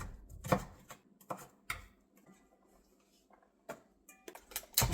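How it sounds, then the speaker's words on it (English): A knife cuts cucumber into thin slices on a board, giving sharp, close chopping taps in an uneven rhythm, some in quick pairs, with quiet gaps between. "You can shred it or you can cut it into thin slices."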